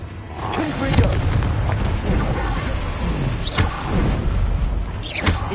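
Booming blasts from the Confringo spell in a Hogwarts video game, several heavy thuds and crackling impacts spread across the stretch, loud and close, with game voices and effects layered underneath.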